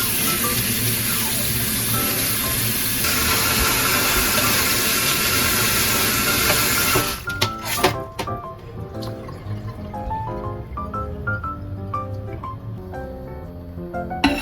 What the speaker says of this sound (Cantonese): 就飛完水之後呢，就用清水去沖返乾淨佢，